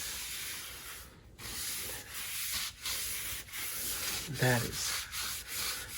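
A guitar body is sanded smooth by hand with steady, rhythmic rubbing strokes, close and fairly loud, with brief pauses between passes.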